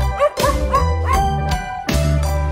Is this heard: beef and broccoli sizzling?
no